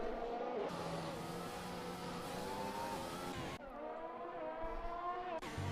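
An F1 car's engine in the F1 2021 video game screams at high revs on a flying lap through the final corners near turn 13, rising and dropping with quick gear shifts, loud and close from onboard.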